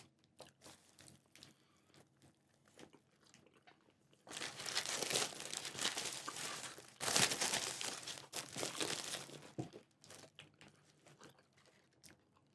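A paper wrapper around a hot chicken biscuit crinkles and crumples close to the microphone, a loud rustling burst lasting several seconds with quieter handling and chewing sounds before and after.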